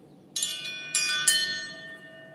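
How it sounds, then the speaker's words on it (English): Hand-forged iron dinner bell ringer at a blacksmith's shop, struck three times in quick succession, each bright metallic clang ringing on with a long shimmering decay, close and clear. "It's a dinner bell ringer."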